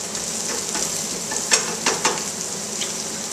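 Garlic and onions frying in a pan for an omelette, giving a loud, steady sizzle with a few brief stirring clatters, and no voices.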